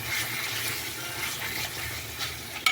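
Water splashed into a pan of spice masala being fried for mutton curry, a brief hissing gush and sizzle close up, with a sharp clatter at the end.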